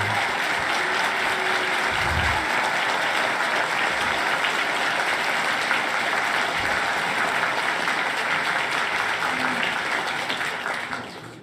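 A debate audience applauds steadily to welcome Dinesh D'Souza to the stage, a sustained wash of clapping that holds level for about eleven seconds before fading out at the end.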